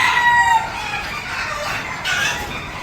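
Chickens, hens and roosters at a gamefarm crow and cluck close by, overlapping calls with a clear rooster crow at the start and more fowl noise layered through.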